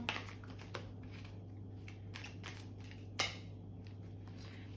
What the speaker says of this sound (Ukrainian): Перемішаємо карти.